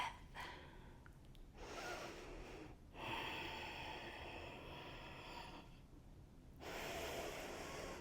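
Slow, steady breaths drawn in and let out during a relaxation exercise, faint and soft, each long breath separated by short quiet pauses.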